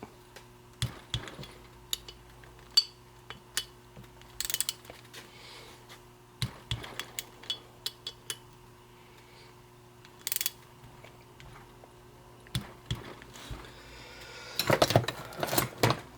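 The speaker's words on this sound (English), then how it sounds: "we'll put our bolts back" 3/8 inch bolts going back into a 1955-1964 tractor lift cylinder during a rebuild, heard as scattered close ratchet clicks and short metallic taps over quiet, busier near the end.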